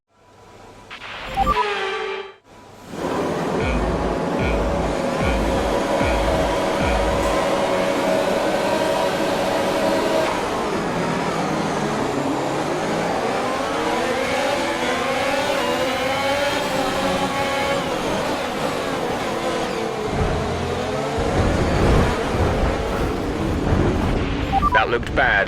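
Formula 1 cars leaving the grid at the race start in F1 2021 career mode with Ferrari, sharp engine noise first, then a sustained whining roar of many engines with rising and falling pitch sweeps as they accelerate, loud and continuous.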